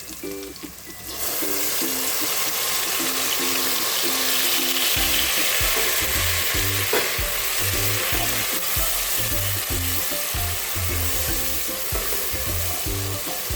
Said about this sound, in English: We fry it for about 2 minutes. Now I add the masala mix.